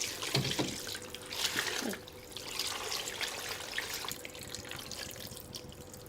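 Water poured into a pot over potatoes and eels, splashing and trickling steadily up to the level of the eels, close and moderately loud, with no voices.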